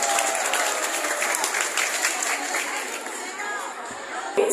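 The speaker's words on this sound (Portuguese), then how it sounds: "mais aplausos para essa turminha" An audience claps steadily for a group of children at a dinosaur-themed school exhibition, a dense, continuous applause lasting throughout, with a brief louder burst near the end.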